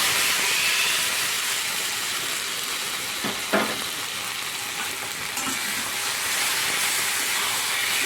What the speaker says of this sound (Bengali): তেলটা গরম হয়ে গেলেই দিয়ে দেব ওর মধ্যে ওই মিশ্রণটা।